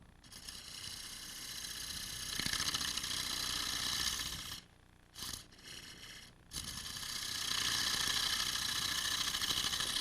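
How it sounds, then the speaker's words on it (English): A wood lathe spins a pedestal cake plate while a 3/8 inch spindle gouge rounds its corner down, giving a steady loud whirring hiss that cuts out briefly midway and then resumes, without talk. "Now I'm going to go over to a 3/8 inch spindle gouge and round the corner down."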